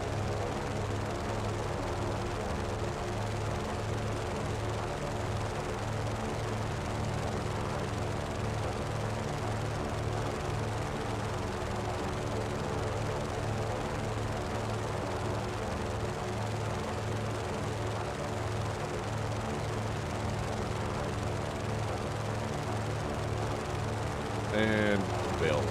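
A constant droning airplane engine in the video game Just Cause 3 runs steadily for the whole stretch, a dense even hum with a brief chirp near the end.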